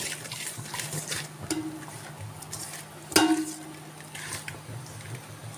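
Food with a little added oil is stirred and mixed in a pan for a spinach dal, giving soft scraping and wet sloshing and one sharp metallic clink partway through. There is no talking.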